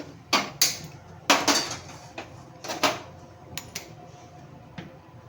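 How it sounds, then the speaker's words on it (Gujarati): A pressure cooker handled in a home kitchen during Gujarati fada lapsi cooking, giving several sharp metallic clanks and knocks in irregular bursts, close and fairly loud, with quiet gaps between. "હવે આપણે કુકર લઈ લીધું છે."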